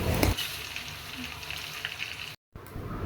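Mango pieces for pickle stir-fried with sugar give a close, steady sizzle, with a loud scraping burst at the start and a brief silent gap near the end.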